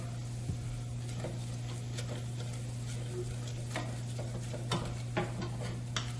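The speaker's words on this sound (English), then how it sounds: "then we're going to stir that around" A butter, onion and flour mixture is stirred in a pan, with scattered soft scrapes and light taps of the utensil over a constant low hum, fairly faint and without talk.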